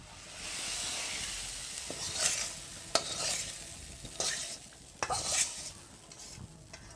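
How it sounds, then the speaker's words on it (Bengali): Spice paste stirred and frying in a hot pot of khichuri, a steady sizzle and hiss with intermittent scraping strokes of a spoon against the pot, close and fairly loud, no voices. "মশলাটা এবার আমি হাড়ের মধ্যে ঢেলে দেবো"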